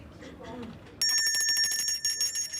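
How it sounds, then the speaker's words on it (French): Bell rung in a discount clearance store each time a sale is concluded, a sharp bright ringing that starts abruptly and continues with metallic shimmer while a narrator talks over it. "À chaque affaire conclue, la cloche retentit et les acheteurs touchent une prime."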